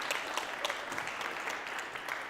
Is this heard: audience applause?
yes